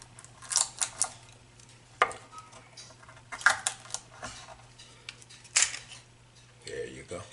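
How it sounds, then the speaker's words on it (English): A paring knife scrapes and pries fresh coconut meat from its hard shell in short, sharp bursts with pauses between them, over a steady low hum. "paring knife under there and get the meat away from the shell"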